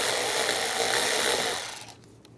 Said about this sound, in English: Using a 8 millimeter socket, loosen up this worm clamp.